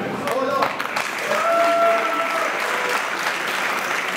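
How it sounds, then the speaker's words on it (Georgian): An audience at a combat sports grand prix event applauds the fighters, a dense, steady wash of clapping from a crowd, with a voice speaking over it for the first second or so. "გააცილოთ მებრძოლები აპლოდისმენტებით"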